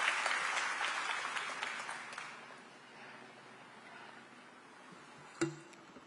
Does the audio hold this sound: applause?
yes